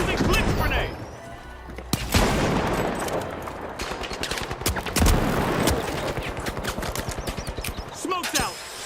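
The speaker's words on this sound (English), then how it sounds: "switching things up. Using blitz grenade." A blitz grenade explosion and gunfire in a video game: sharp, loud bangs and rapid bursts of shots in a busy firefight, with a voice talking over the action.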